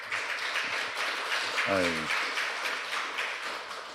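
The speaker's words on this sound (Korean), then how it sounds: "우리 박수 한번 하시죠." A congregation at a Wednesday church service claps together, a dense, fairly quiet patter of applause with a voice speaking over it.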